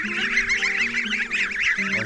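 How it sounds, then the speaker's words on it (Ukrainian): Geese honk loudly and repeatedly nearby, a continuous clamour of overlapping calls. "Гуси виросли."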